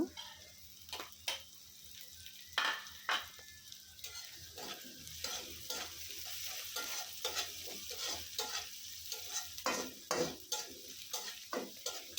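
Onions and slit green chillies with salt frying in a pan, with repeated scraping stirs against the metal over a steady low sizzle throughout.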